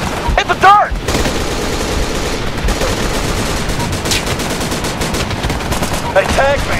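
Heavy, continuous gunfire in the Island War video game, a dense stream of rapid shots under occasional shouting voices, loud and close throughout.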